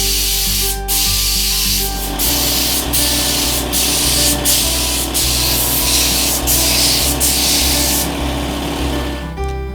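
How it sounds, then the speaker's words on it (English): A spray can hisses clear coat onto restored parts of a UNIC Royal radio in a loud, close series of bursts, each several seconds long and separated by short pauses, with no talking. "I'm going to put some clear coat over it now and just build that up so it gives you a nice finish"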